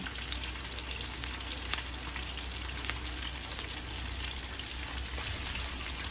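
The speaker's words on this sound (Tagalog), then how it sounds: "Lagyan natin ng oil. Magigisa na tayo. Lagyan na natin yung ating bawang." Garlic sautés in hot oil as the base for fish escabeche, giving a steady, close crackling sizzle with sharp pops scattered through it, even in level and heard alone without talk.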